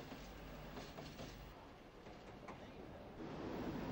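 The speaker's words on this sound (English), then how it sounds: "The workers' train from Inchicore to Kingsbridge station is hauled by Deutz Diesel G613." Deutz diesel locomotive G613 hauls a workers' train from Inchicore to Kingsbridge station in 1960s Ireland, a steady low rumble with faint rail clatter, fairly quiet and distant.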